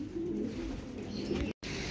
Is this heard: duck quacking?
no